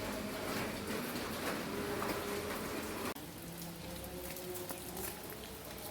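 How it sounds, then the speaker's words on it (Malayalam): Steady morning rain falls with a dense, even patter throughout, then continues at a slightly lower level after a brief break. "രാവിലെ മഴയാണ്"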